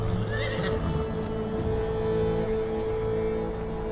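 A mare whinnies near the start, then hoof clip-clops and soft movement follow under a steady low hum, with no voices over it.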